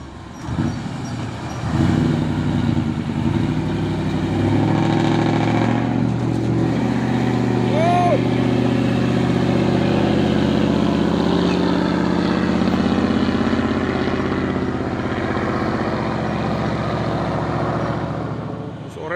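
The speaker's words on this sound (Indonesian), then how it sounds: "Suara knalpotnya kayak suara helikopter ini ya." A heavy CPO tanker truck idles and pulls along a road, its exhaust giving a steady, throbbing low rumble that sounds like a helicopter. The noise builds over the first few seconds, then holds loud and continuous throughout.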